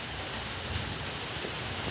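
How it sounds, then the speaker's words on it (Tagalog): Heavy rain pours down in a dense, unbroken hiss, loud and steady throughout with no voices. "Lakas ng ulan oh. Maulan dito guys."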